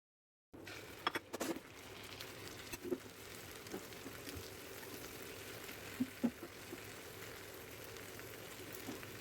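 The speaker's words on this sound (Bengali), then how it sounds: "আমি একটা একটা করে বেসনের মধ্যে ডুবিয়ে তা ডুবো তেলে এভাবে ভিজে নিলাম" Gram-flour-battered shrimp fry in deep oil with a soft, constant bubbling patter and occasional louder pops and crackles, fairly quiet and continuous after a brief silent start.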